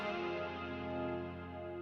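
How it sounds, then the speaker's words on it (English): A sustained synth guitar open chord rings out with a shimmering chorus effect and reverb, thick and even, fading slightly as it holds. "And we've got another guitar sound."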